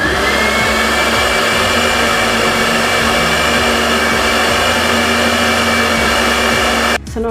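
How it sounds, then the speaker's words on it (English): A blender whirs steadily as it purees a pumpkin punch mixture with vanilla, a loud, constant motor drone running the full length before cutting off abruptly near the end. "I'm just going to blend this up"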